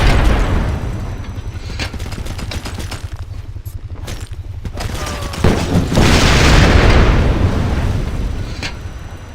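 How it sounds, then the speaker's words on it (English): A vehicle blows up after a launcher hit in Ghost Recon Advanced Warfighter, with a deep, loud boom swelling midway and rolling on in a long rumbling roar over earlier scattered gunfire and crackling. "take aim and use the launcher to destroy the vehicle"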